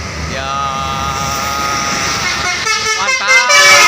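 A Basuri musical telolet horn on a bus near Al Jabar plays a warbling tune that swells in toward the end over a steady engine and crowd background.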